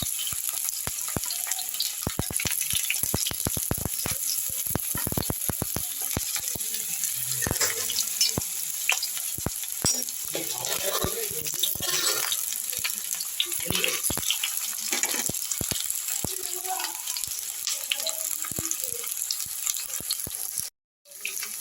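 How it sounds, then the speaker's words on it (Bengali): Potatoes for a drumstick vegetable curry fry in hot oil in a pan, giving a steady, loud hiss and crackle that runs almost unbroken, with a brief cut near the end. "আলুটা আমি তেলের মধ্যে দিয়ে দিয়েছি"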